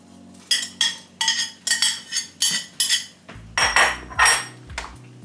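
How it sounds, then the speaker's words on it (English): Hard vegetables, carrots and turnip, dropped one after another into a cooking pot for Jamaican shrimp and corn soup, making a run of about ten clinking, clattering knocks against the pot with no talk. "I put in my carrot in my pot"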